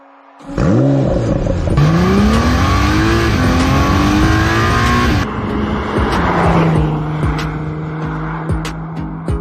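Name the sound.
Honda NSX sports car engine starting and driving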